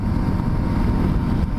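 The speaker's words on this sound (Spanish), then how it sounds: "La moto va a sus 29 caballitos, va muy bien." A Voge 300 Rally motorcycle cruising on a paved road at steady medium speed, its engine drone blended with heavy rushing wind noise, continuous and close.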